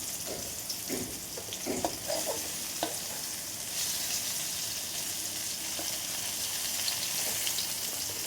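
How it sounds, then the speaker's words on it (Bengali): Mustard-stuffed ridge gourd slices frying crisp in hot oil, a steady close sizzle with a few scraping stirs early on, no talk. "এরকম একটু কড়া কড়া করে ভাজলে ভালো হয়। এইভাবেই কিন্তু আমি সব ঝিঙেগুলো এইভাবে ভেজে নেব।"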